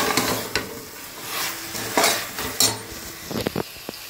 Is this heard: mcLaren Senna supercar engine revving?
no